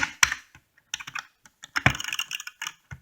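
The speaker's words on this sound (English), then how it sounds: "I love that clicking sound." The buttons of a Wii game controller with a small joystick are clicked in short, irregular bursts of sharp, close taps with quiet gaps between them.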